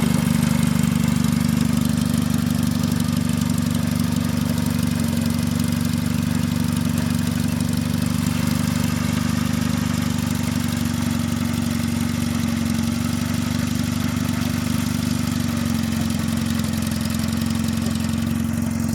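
A mini tractor engine runs steadily in its lowest first gear, a loud, continuous low drone with a constant throbbing hum and no pauses.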